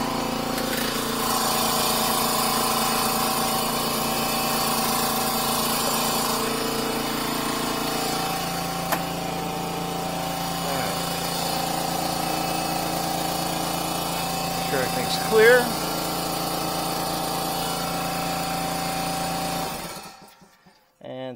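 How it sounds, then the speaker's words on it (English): An air compressor runs in a service bay during an oil change and tire rotation on a 2021 Dodge Durango. Its loud, steady mechanical drone fills the space, someone speaks briefly, and the noise cuts off near the end. "sorry about the compressor noise, just part of the operation"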